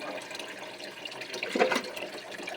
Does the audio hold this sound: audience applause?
no